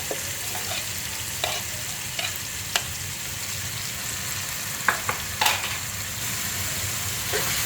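Three medium chopped onions fry in a pan with a steady, close sizzle, broken by occasional light clicks and scrapes of stirring, and no speech.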